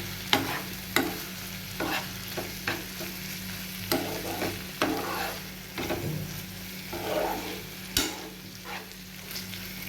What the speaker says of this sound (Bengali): এই আদা আর রসুনটাকে আমি এর মধ্যে দিয়ে দেবো। একটুখানি এটাকে নাড়িয়ে দেবো।